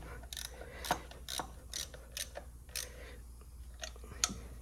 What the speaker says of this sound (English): You can get ratchet in there, no problem.